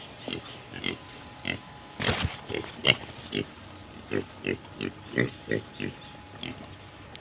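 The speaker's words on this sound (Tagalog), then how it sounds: "Ito pala yung mga biik nila ka-backyard" Backyard piglets, crossbred and native, give a steady run of short grunts and squeals, close by, with one louder sharp squeal early on and rhythmic oinks following.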